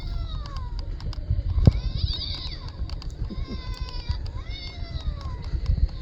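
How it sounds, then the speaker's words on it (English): Several cats meow on and off in a graveyard at night on Halloween, with overlapping rising and falling cries at mid distance over steady outdoor background noise and a few footsteps. "there must be a feral cat house nearby, because there seems to be cats"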